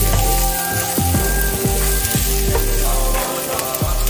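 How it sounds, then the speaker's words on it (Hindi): Onions frying in a very small amount of oil, a loud, close crackling sizzle with rhythmic scraping strokes of a spatula or spoon about every half second. "इसको हम एक लाइट गोल्डन कलर होने तक इसको फ्राई करेंगे।"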